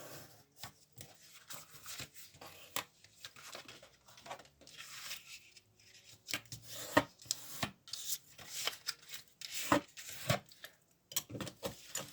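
Folds of paper being pressed firmly for a handmade 30x30 photo album, a series of soft rubbing and sliding strokes with scattered crisp taps, close and fairly quiet.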